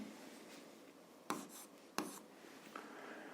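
A pen writes out a maths task on a rectangle's perimeter, producing soft scratching strokes with a couple of sharper taps, close and quiet, with no talking.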